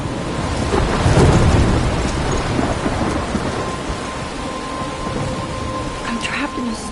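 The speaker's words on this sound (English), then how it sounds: "I'm trapped in a storm?" A thunderstorm in the video game Life is Strange: steady heavy rain hisses on surfaces while a deep rumble of thunder swells early, then fades under the continuing downpour.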